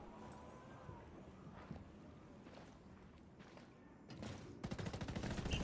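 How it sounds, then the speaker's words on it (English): Gunfire in the Ghost War video game during a competitive league match. It starts faint and distant with scattered shots and footsteps, then a loud, rapid burst of shots erupts near the end. "Shots."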